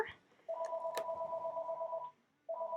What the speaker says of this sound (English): Oh, of course, my home phone.